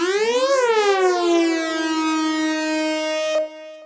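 A single sustained software-synth note from BP Synth, with a quick pitch rise and fall at the attack that settles into a steady bright harmonic tone at the sustain level, then cuts off near the end.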